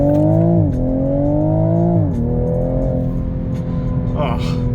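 Toyota Supra sports car on Michelin Super Sport tyres, its engine droning loud and close from inside the cabin, pitch dipping and climbing through shifts, with someone talking over it.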